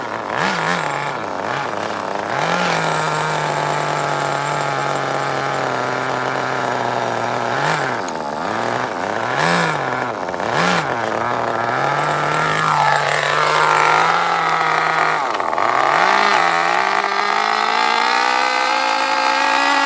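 Tamiya Terra Crusher nitro RC truck engine running steadily at a loud, high idle, with harmonic buzzing that wavers and blips upward in brief rises throughout, close to the microphone.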